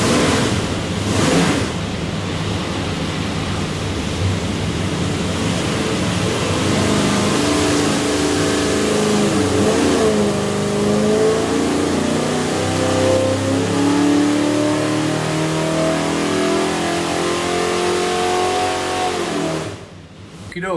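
A 521ci Cobra Jet big-block Ford V8 roars through a loud sustained dyno pull on a test stand, engine note holding high and steady for about twenty seconds before cutting off abruptly near the end.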